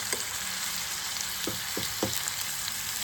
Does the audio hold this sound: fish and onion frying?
yes